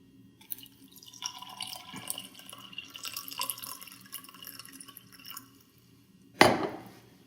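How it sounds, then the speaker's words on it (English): Tap water runs and drips onto a dry tea bag in a cup, a soft trickle with small drips over several seconds, then a louder splash near the end. "So I'm gonna put the dry tea bag in here and we're gonna start with tap water."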